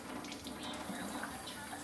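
Tap water runs steadily into a Kangen water ionizer's container, a constant close hiss and splash with no breaks.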